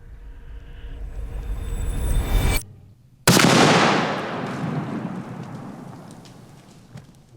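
A .30-06 rifle fires a 150 grain Hornady round into a ballistic dummy head outdoors: one sharp, very loud crack after a wash of wind noise and a brief gap, then a long rolling echo that slowly fades.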